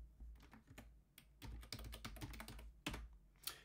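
Someone typing a login password on a computer keyboard: quick clusters of close, crisp keystrokes with brief pauses between bursts, fairly quiet overall.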